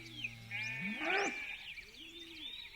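A goat kept by an elderly couple in a mountain village yard gives one wavering bleat, rising and falling, with a softer bleat after it, faint and alone.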